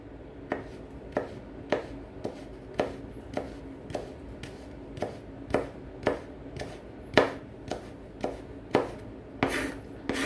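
A knife chops ginger steadily on a wooden board, about two sharp cuts per second, close and clear with no talking.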